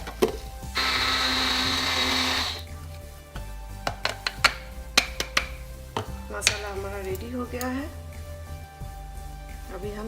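An electric grinder whirs loudly for about two seconds, crushing roasted Bengali bhaja masala spices, followed by scattered knocks and taps of the jar and lid as someone talks.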